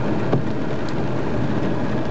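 Torrential rain from a thunderstorm over Nancy, France, a loud, dense, steady roar of downpour with a faint distant rumble, no voices.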